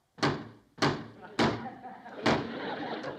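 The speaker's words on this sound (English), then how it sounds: "I can hear them pounding on the door." Heavy pounding on a garage door: four sharp, booming thuds spaced about half a second apart, each ringing out briefly before the next.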